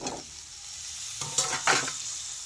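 Chopped tomatoes hitting hot oil in a pan with chicken, a continuous bright sizzle with a couple of brief louder bursts near the end as they are stirred in; close, no voices.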